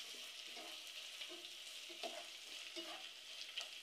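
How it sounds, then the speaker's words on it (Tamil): Ginger and garlic sauté in a pan, a faint, soft sizzle with light, irregular stirring scrapes spread through the clip. "இஞ்சி பூண்டு சேர்த்துட்டு அது பச்சை வாசம் போகிற வரையும் வதக்கணும்"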